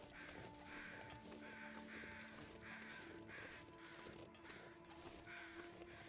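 Crows cawing repeatedly in The Long Dark, a steady series of harsh, rhythmic caws over a constant windy ambient bed, fairly distant, with no talking.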